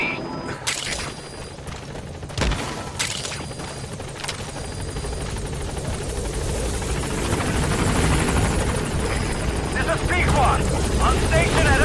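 A Metal Gear Solid V helicopter approaches a landing zone, its steady rotor roar building louder and closer across the clip with a few sharp mechanical knocks early on.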